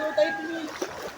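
Children bathing in a river at Ulag Beach, with light splashing and sloshing water under nearby voices and chatter.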